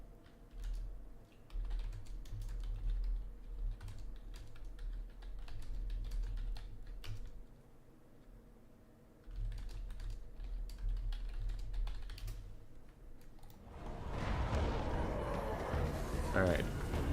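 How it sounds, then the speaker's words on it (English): Steady clatter of typing on a computer keyboard during a strategy game session, continuous close key clicks over a low background hum, ending as a voice begins talking. "I can't say anything, but I will type it."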